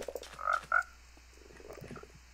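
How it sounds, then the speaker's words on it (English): Frogs croak in a Minecraft swamp: a few short, bright croaks in quick succession, then softer burbling calls, fairly close and alone against a quiet background. "Stop summoning frogs."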